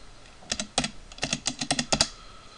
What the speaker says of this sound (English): You type in your password you made.